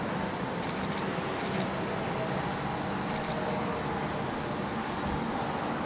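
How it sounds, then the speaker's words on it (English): Qantas airliner arriving from Singapore at Sydney Airport, a steady broadband engine roar heard from a distance, even and sustained throughout with no talking. "Qantas 82 in from Singapore"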